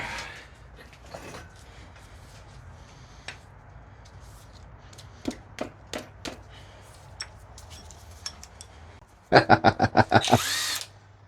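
An impact gun or power drill spins bolts off a Volvo engine crankshaft: short separate bursts through the middle, then a loud cluster of rapid rattling hits near the end, close up with no talk.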